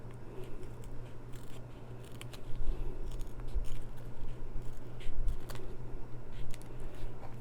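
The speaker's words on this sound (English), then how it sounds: "you're kind of like slipping the tip of the scissors underneath, because you don't want to cut the clear vinyl" Scissors snip through an outer layer of vinyl over clear vinyl on a machine-embroidered dog treat holder, a series of close, soft crunching cuts over a low steady hum.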